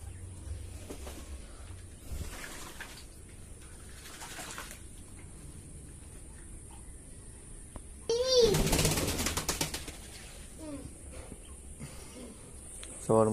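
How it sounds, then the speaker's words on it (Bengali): Pigeons coo softly in the heat while bathing, with a brief burst of splashing and fluttering midway and faint background sounds throughout. "প্রচন্ড গরম, পায়রাগুলো চান করছে।"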